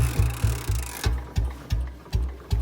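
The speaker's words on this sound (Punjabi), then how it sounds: "ਤੁਹਾਨੂੰ ਹੁਣ ਸਾਊਂਡ ਸੁਣਾ ਦਿੰਦੇ ਦੋਨੇ ਬੁਲਟਾਂ ਦੀ, ਪਹਿਲਾਂ ਇਹਦੀ ਸੁਣਾਵਾਂਗੇ" A Bullet motorcycle engine idles slowly, close and loud, with a steady run of heavy thumping beats at about four per second and no talk over it.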